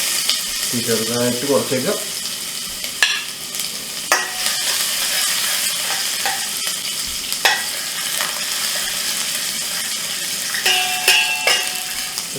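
Ginger frying in oil in a pan for a Kerala mussel dish, a steady crackling sizzle throughout with scattered sharp clicks of a spoon, and a short stretch of speech near the start.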